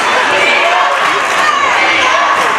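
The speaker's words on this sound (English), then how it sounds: "And now the crowd getting behind this Lady Hornets team." Crowd cheering in a high school girls' basketball gym, a dense, loud, continuous roar of voices and shouts with no breaks.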